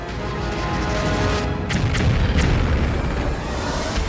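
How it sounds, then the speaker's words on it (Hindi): A heavy bomb blast roars loudly, a deep rumbling boom that keeps rolling for several seconds. "जब ये बम गिरता है तो ऐसा धमाका होता है जो पूरी बिल्डिंग को गिरा देता है"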